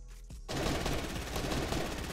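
Rapid gunfire in the video game Fortnite: Battle Royale erupts after a brief pause, a dense, loud burst of shots that continues without letup.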